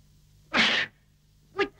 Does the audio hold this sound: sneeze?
yes